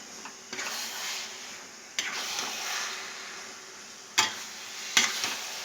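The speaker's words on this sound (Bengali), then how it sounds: "এবারে আমি এটাকে আস্তে আস্তে নাড়তে থাকবো, যাতে না তলায় কোনোভাবে ধরে যায়" Coconut korma fishing bait for katla being stirred slowly in a pan, with soft continuous scraping and faint sizzle, broken by a few sharper spoon knocks against the metal.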